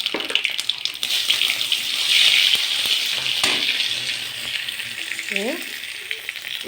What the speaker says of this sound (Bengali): এবার সর্ষেটা দিয়ে দিলাম ফোড়নে।